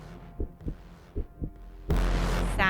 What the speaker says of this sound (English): that's not a kick drum, it's an actual heartbeat